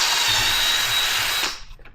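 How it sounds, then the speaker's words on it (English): A power drill fitted with a larger-diameter bit bores a center hole through a rat bait station foot, a loud steady whine and grind that runs for about a second and a half before cutting off abruptly. "this is a larger diameter drill so that the screw can pass through these feet. And I'm just going to drill"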